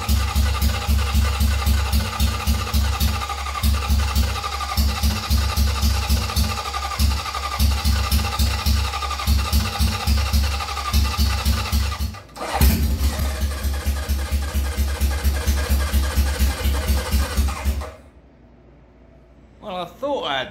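A Honda CB750 cafe racer motorcycle running on choke, its engine a loud, close, rhythmic thumping idle that cuts out briefly, restarts and runs on before stopping, with a voice heard faintly at the end.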